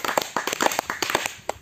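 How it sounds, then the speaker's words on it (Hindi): Group of people clapping together at a yoga session, brisk uneven applause with sharp overlapping claps, fairly close and loud, with no talk. "इसके लिए जोर से एक बार ताली बजाइए सभी लोग"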